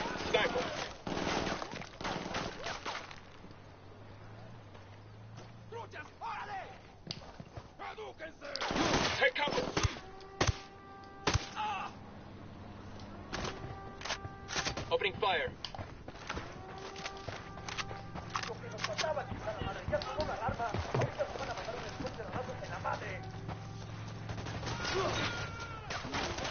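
Bursts of gunfire and sharp shots from a sniper in the Ghost Recon video game on PS4, scattered across a long stretch with footsteps and shuffling, under occasional talk.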